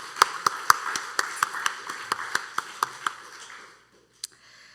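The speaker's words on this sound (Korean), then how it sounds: "우리 하나님께 영광의 박수 올려드릴까요?" A few people in a Korean church congregation clap during a Wednesday worship service, a sparse series of about a dozen separate sharp claps at a steady, uneven pace that tails off into quiet, with one last lone clap.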